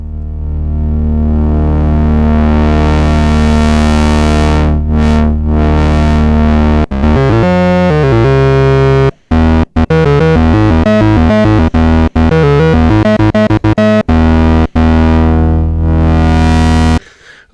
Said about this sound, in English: we can definitely hear how delicious the Moog filter is. Even without resonance, we can hear that warmth,